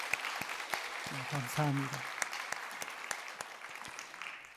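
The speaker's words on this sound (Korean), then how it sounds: "우리 인사할 때 뜨겁게 박수로 환영해 주시기 바랍니다." Church congregation applauding during a Sunday service. The clapping is steady but faint and distant, and a brief spoken line cuts in near the start.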